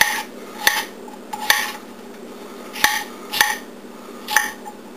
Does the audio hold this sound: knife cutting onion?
yes